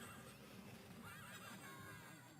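Horse whinnies from the video game Patapon ring out over busy game music and battle noise, a repeated wavering neigh near the middle of the short stretch.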